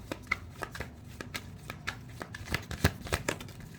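Tarot cards being shuffled and drawn by hand, a rapid run of soft papery riffles and flicks, close and fairly quiet, with no talking.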